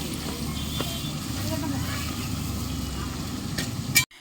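Garlic and green chili paste frying for a chicken curry cooked with pond water, a steady sizzle and stirring under ongoing talk, ending in a sharp clatter.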